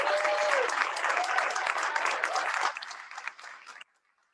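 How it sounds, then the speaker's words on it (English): Audience applause at an exhibition opening, steady dense clapping that thins out and stops abruptly near the end, leaving near silence. "Can we just give them another round of applause, please?"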